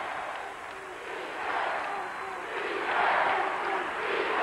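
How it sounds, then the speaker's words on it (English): Basketball crowd in an El Paso arena at a 1990 WAC tournament championship game between UTEP and Hawaii, a dense roar of cheering that swells steadily and stays loud throughout. "the crowd is fired up here in El Paso"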